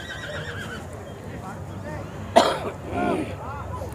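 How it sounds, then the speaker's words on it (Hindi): A champion horse from Nagaur-Jodhpur at the Pushkar fair neighs loudly once in a short burst, standing out over crowd noise and nearby talk. "पुष्कर का एकमात्र ऐसा घोड़ा जो बिकाऊ नहीं है।"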